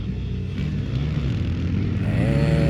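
Quad ATVs roar off the start of a race at a Brooksville, Florida track, a dense loud engine drone with revving that climbs in pitch toward the end.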